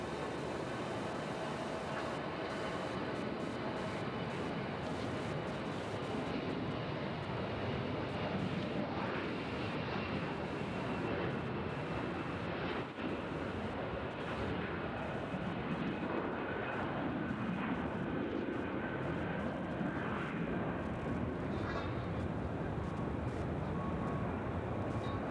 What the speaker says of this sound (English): we got a CRJ about to head out